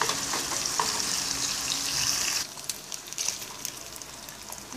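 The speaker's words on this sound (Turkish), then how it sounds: "gördüğünüz gibi kıymalarımız kavruldu" Minced meat frying in a little oil in a pan, a steady close sizzle that drops noticeably quieter about halfway through as the pan settles.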